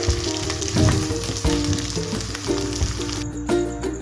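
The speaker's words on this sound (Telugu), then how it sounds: "ఇప్పుడు మనం శుభ్రం చేసి పెట్టుకున్న గుంటగలగ రాకును కూడా నేను ఆయిల్లో వేసేస్తున్నానండి" False daisy leaves sizzling in hot almond oil, a continuous crackling fry with small bursts and a stirring scrape, close and loud with no voices.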